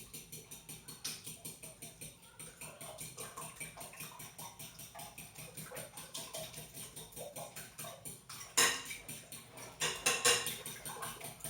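Quiche filling of eggs seasoned with pepper and nutmeg is stirred with a utensil in a bowl, giving a steady run of soft rhythmic clinks and scrapes, close and fairly quiet, with a few sharper knocks near the end.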